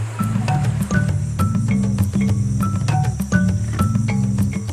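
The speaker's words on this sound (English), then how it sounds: "First, they need to catch the bait, jungle crickets" Jungle crickets chirping in a Gabon rainforest, a loud, dense chorus of rhythmic, overlapping trills repeating steadily throughout, with no voices.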